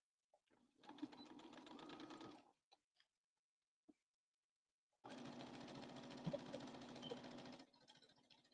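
Sewing machine stitching the sleeve of a bomber jacket, two sustained runs of fast, steady mechanical whirring separated by a pause with a few small clicks.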